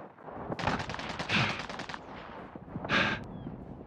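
Gunfire in Call of Duty Warzone comes as a rapid automatic burst of close, loud shots, a short pause, then a second brief burst, with no talking over it.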